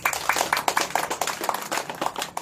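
A small crowd at a religious gathering claps in a quick, irregular patter of sharp hand claps, loud and close, lasting a couple of seconds.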